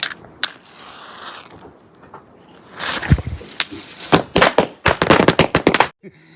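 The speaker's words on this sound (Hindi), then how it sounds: "इस पटाखे के पैकेट को फोड़ते हैं हम लोग" A packet of Diwali firecrackers bursts outdoors at night in a mountain village, a quick fuse hiss and then a rapid, irregular string of loud sharp cracks and pops that ends abruptly.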